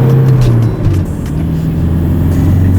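A stock Toyota Hilux Tiger pickup engine pulls at full throttle, a steady loud drone that drops briefly in pitch as the gear changes, then climbs again.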